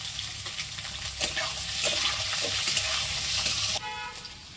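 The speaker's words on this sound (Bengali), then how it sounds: "গাজর কুচিটা দিয়ে দিচ্ছি।" Chopped carrot stir-frying in a pan for a flattened-rice upma, with a bright steady sizzle and repeated scraping strokes of a spoon, ending in a quieter, duller tail.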